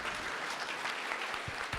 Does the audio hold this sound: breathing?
no